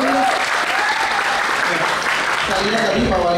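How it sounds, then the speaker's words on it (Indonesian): Audience applause at an anti-hoax declaration event in Jambi, a continuous layer of clapping with a voice speaking over it throughout. "Sekali lagi tepuk tangan"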